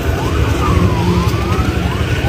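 Ambulance siren wailing from vehicles in a funeral procession heading to a public cemetery with a traffic police escort, its rising and falling tones steady and fairly loud over continuous low road rumble.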